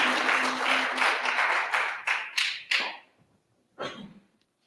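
Applause for Steve at a Sunday addiction-recovery ministry gathering: a burst of clapping that thins into a few scattered claps and fades out, with a brief late flurry.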